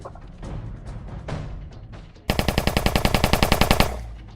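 Assault rifle fired full auto in a tabletop game session, a sudden loud burst of about fifteen rapid evenly spaced shots cutting in after a couple of seconds of muffled background noise.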